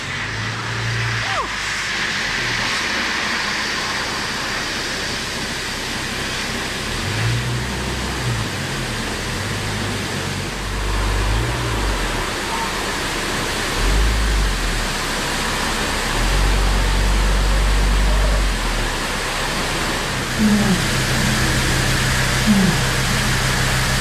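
Drive-through car wash jets spraying sand off a car's underbody after a beach trip, a loud continuous rushing hiss and drumming water with low engine rumble, voices talking over it.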